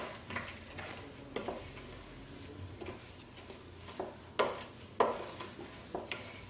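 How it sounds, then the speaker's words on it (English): A homemade chocolate sugar scrub is stirred in a bowl, with scraping swirls and scattered light clinks and taps of the utensil against the bowl. The sounds come at an irregular pace, close and fairly soft. "And then you just mix it again."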